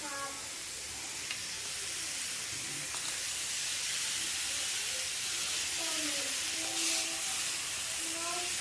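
Carne asada searing in a hot pan gives a steady, close hiss and sizzle that runs unbroken throughout, with faint brief tonal squeaks now and then and no talking.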